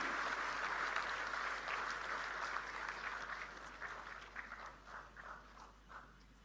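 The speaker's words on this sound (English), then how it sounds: "A huge round of applause." Audience applause fills the hall at the inauguration of India's first quantum reference facilities, starting full and steady, then thinning into scattered claps before fading out.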